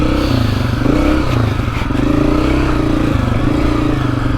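A Honda CRF250F dirt bike engine putters loudly and steadily up close while rolling in gear on a trail, a rough, uneven chugging with slight rattles.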